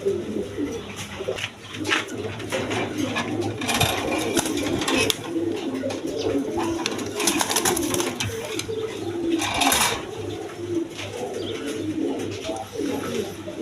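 A new adult pair of Gola pigeons among a loft of birds for sale, with steady, overlapping cooing from many birds filling the space close by over a constant low background hum.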